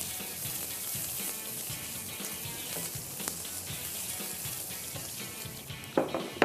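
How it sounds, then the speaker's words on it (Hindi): Chopped onions fry in a pan for a fish curry, giving a soft steady sizzle with a few clatters near the end. No voices are heard. "यहाँ पर हमारे हैं प्याज चॉप्ड हुए हुए, वो मैं डाल रहा हूँ इसमें। अच्छे तरीके से इसको भूनें।"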